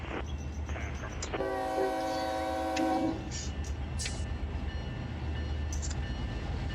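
A freight train locomotive rumbles steadily while its horn sounds one long, loud blast lasting close to two seconds, followed by a couple of short clanks over the continuing engine drone.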